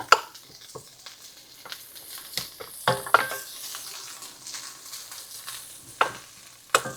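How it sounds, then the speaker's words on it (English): Mushrooms sauteing in melted butter in a skillet: a soft, quiet sizzle broken by sharp clicks and scrapes of stirring, close up with no voices. "I'm going to start sauteing those mushrooms"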